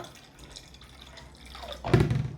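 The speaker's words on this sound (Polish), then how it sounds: "Wlewasz wodę. Zobaczcie. Wlewam wodę." Water trickles and splashes into a glass while orangeade is mixed at home, quiet at first and then a louder gush of pouring near the end.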